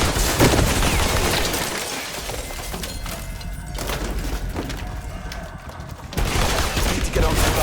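Gunshots in the video game 007 First Light ring out amid dense, loud gunfire and crashing impacts that fill the scene, with a voice speaking briefly over the action.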